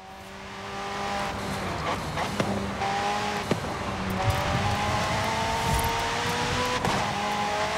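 A car in Forza Horizon 5 accelerates, its engine rising in steady pitch sweeps through the gears with a few sharp clicks. The sound is loud and continuous, with no voices.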